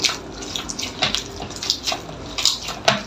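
Water poured into donut dough being mixed, close wet splashing and squelching in uneven bursts as the liquid hits and is worked into the dough, fairly loud.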